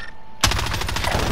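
Automatic gunfire in a first-person shooter game erupts suddenly after a quiet start, then keeps up as a loud, continuous, rapid burst of shots.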